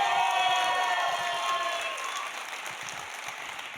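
Conference audience at the European Microsoft Fabric Community Conference bursts into dense applause mixed with cheers and whoops, loud at first and gradually easing off.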